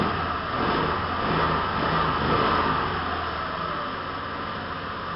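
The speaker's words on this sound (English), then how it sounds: "I'll throttle it up and show it for you." A scooter engine revs as the throttle is opened, giving a loud, steady, buzzing drone close by that swells slightly and then holds, with no talking.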